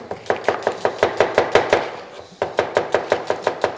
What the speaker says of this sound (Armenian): դուք սոխը կտրատեք, ես գունավոր պղպեղները կկտրատեմ